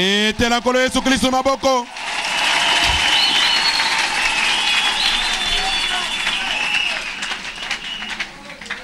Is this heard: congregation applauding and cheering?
yes